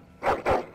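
A dog in the Dragon Age: Origins game gives two quick barks in succession, fairly close and moderately loud, with nothing else around them.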